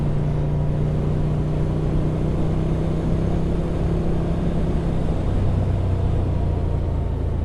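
Motorcycle with an aftermarket exhaust droning steadily close by as the rider rolls off the throttle, the engine note sliding lower near the end, no voices.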